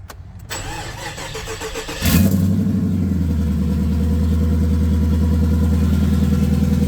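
A cold Nissan Stagea engine cranks briefly, catches with a loud burst, then settles into a steady, close, rhythmic idle with no talking.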